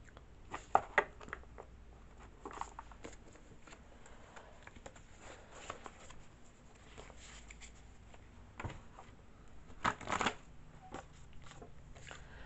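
A deck of cards is shuffled nearby in quiet bursts of soft riffling and patter, with a louder flurry near the end over a low background hiss.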